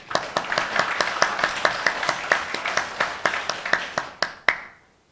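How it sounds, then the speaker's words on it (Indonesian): Audience at a cooperative's annual members' meeting applauding: a steady patter of many hands clapping in a fairly even rhythm, fading out near the end with a few last claps. "Mungkin bisa tepuk tangan kita ya."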